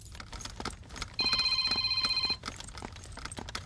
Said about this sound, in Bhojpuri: अरे फोन लगाओ ना। दा स्पीकर पे कर दे फोन के।